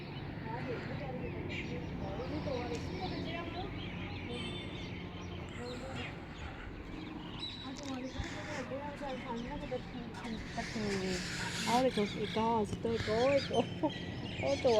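Poultry cluck and call while feeding over a steady background murmur, with people talking throughout and the bird calls growing livelier toward the end.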